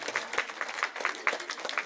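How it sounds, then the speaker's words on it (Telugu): Crowd clapping at a Sankranthi festival closing ceremony in Greater Gajulapalle, a steady burst of many hands applauding loudly throughout, with no talk over it. "క్లాప్స్ కొట్టాలి గట్టిగా"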